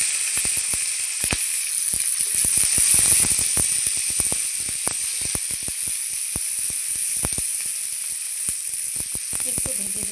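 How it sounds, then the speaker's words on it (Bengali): Onion and green chili hit oil left from frying fish, producing a loud steady hiss and sizzle with frequent sharp crackles and pops, no talking over it. "তো মাছ ভাজা তেলের মধ্যে দিয়ে দেবো আমি পেঁয়াজ আর লঙ্কা"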